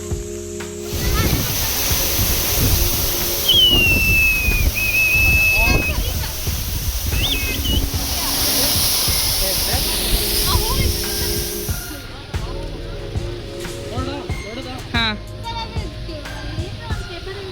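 Baba Falls waterfall in Maharashtra rushes as a steady, loud broadband roar throughout, with people talking over it and brief whistles and calls mixed in.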